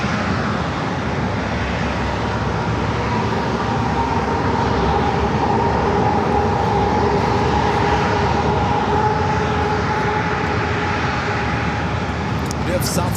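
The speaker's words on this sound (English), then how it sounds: "We have Southwest Airlines heading to Oakland, California, flight 1700 at 737 MAX 8 heading down to the 27 runway" Southwest Airlines Boeing 737 MAX 8 jet on approach to runway 27 at San Diego airport, a loud, steady engine roar with a sustained whine filling the whole stretch, while a voice talks over it.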